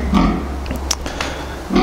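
Low, rough grunts from replacement sows come in a few short bursts, close by, over a steady low hum of a barn.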